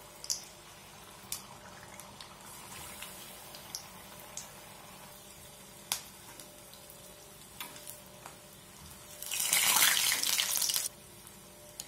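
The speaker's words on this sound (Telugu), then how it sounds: "అందులోకి ఈ ఆనియన్స్ని ఈ పొటాటోస్ని డిప్ చేసి నూనెలోకి వేసుకుందామండి" Batter-dipped onion and potato pakoda go into hot oil, giving a faint, steady sizzle with scattered small pops and one louder, fuller surge of frying near the end, with no voices.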